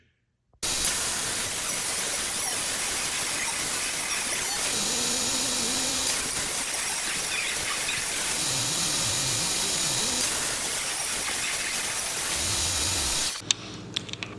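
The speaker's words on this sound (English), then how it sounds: "So here we've set our miter saw up to 45 degrees right here." A miter saw set to 45 degrees cuts the edges of mantle boards, a loud continuous roaring hiss with slight dips as the blade works through the wood, ending abruptly as the saw stops.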